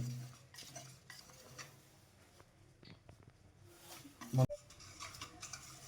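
Patishapta batter of flour and milk being stirred in a bowl, giving soft, faint scraping and swishing strokes with a couple of louder clinks near the end and a low background hum.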